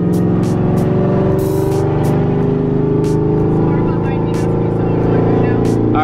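A drift car with a manual transmission drones steadily from inside the cabin as its engine holds a loud, sustained hum, while people talk over it.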